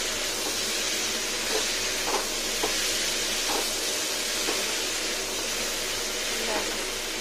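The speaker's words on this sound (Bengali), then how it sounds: "লবণ, পাঁচফোড়ন আর টমেটো ভালো করে কষিয়ে নিই" Salt, panch phoron and tomato sautéing in a pan, giving a steady broadband sizzle with faint scraping stir strokes now and then, close and continuous.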